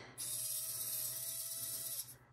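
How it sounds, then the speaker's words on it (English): A small high-pitched drill bit whines steadily through polymer clay for about two seconds at close range, starting and stopping abruptly, with no talking. "I'm going to take my little drill bit and I'm going to go straight down"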